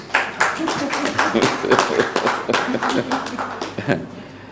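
Scattered, uneven clapping from an audience at a press presentation, a few distinct claps rather than full applause, with some voices audible underneath.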